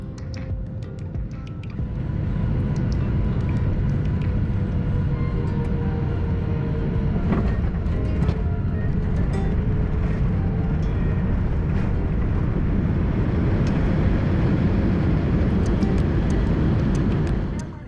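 A low-cost Nok Air airliner lands at Ranong, with a steady, loud cabin rumble of jet engines and airflow rising after a quieter start and holding throughout.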